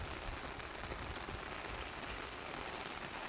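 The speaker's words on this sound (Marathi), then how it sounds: "प्रचंड म्हणजे प्रचंड पाऊस आहे." Very heavy monsoon rain pours steadily on a hillside road near Pen, a dense, continuous hiss of downpour close by with no talking.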